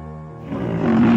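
A rhino call in a children's zoo animal sounds game: a short, low growling roar that swells from a quieter start into a loud, rough bellow, heard alone.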